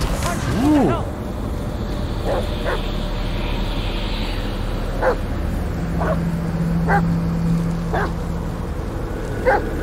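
Dog barking in the horror video game Blair Witch, a few sharp yips and barks at moderate distance over a steady forest ambience, with a voice briefly heard.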